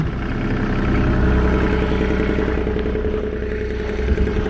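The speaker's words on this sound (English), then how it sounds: "so it does have the Kubota engine in it." A Kubota-engined excavator idles nearby with a steady, even diesel chug and clatter that holds constant throughout, no voices.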